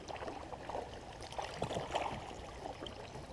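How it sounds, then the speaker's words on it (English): A kayak paddle dips and pulls through water in soft, irregular splashes and gurgles, quiet and close, with light wind behind. "Keep paddling."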